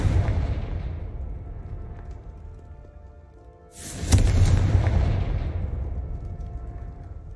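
A Confringo fire spell in the Hogwarts Legacy video game bursts at about four seconds into a loud, booming blast with a crackling tail, following a quieter rumbling stretch of game ambience.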